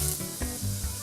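Onions frying in hot butter after potatoes, a soft continuous sizzle with faint shuffling as the pan contents shift, quiet and close, no talk.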